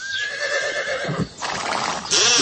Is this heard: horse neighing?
yes